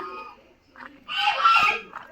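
A duck gives a loud, harsh quack close by at a farmhouse, after a couple of softer, shorter calls.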